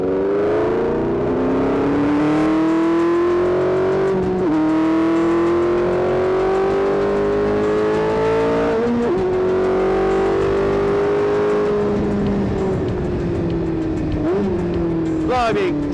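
A car accelerates hard past from behind a small hill, its engine close and loud with a steady rising and falling rev tone that surges again near the end.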